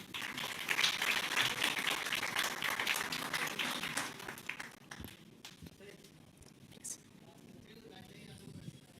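Audience applause at a Bharat AI Shakti forum with Andhra Pradesh ministers present: a broad, lively clatter of many hands clapping in a large hall for several seconds, then tapering to scattered claps and room murmur.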